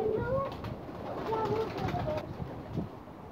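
A male Ferozpuri pigeon cooing close by, soft low warbling calls repeating over a light background hum, with no talking.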